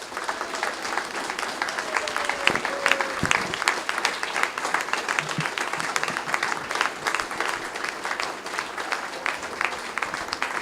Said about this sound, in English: give all of our wonderful candidates the applause they have all justly